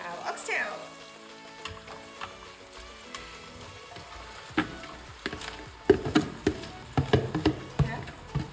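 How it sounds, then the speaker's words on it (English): Oxtail pieces hit a hot pot and start to sizzle, irregular crackling pops and spits building up over a low background, close and fairly loud with no talking. "we are going to add our oxtail"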